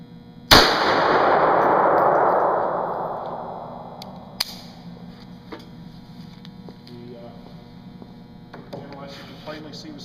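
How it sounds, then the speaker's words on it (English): A .380 caliber full metal jacket round fired at close range into a styrofoam panel, one loud sharp crack with a long decaying ring, a second smaller snap, then quiet clicks and handling noise over a steady hum. "we're going to shoot this at close range with a .380 caliber full metal jacket bullet"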